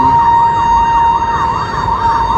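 A fire truck siren wails steadily with a rapid warbling pattern, loud and close, over a low rumble of traffic.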